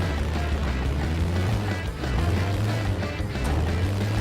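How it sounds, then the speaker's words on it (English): Deep, rattly car engine with a blown-muffler character from The Simpsons Road Rage on GameCube, a loud, steady low drone with a growling throb throughout. "I love this big, deep, rattly engine noise"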